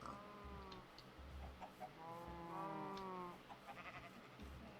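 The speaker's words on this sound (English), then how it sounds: "Let's check these chickens." Chickens in Minecraft give a few short, soft clucks, scattered and fairly quiet over a low background hum.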